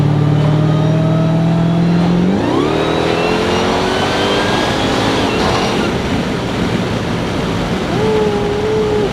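A roughly 1000 hp Dodge Hellcat with a Legmaker intake and supercharger accelerates hard downhill, heard loud and close with the window down: a rising engine roar, shifting pitch, then sustained supercharger whine and intake rush.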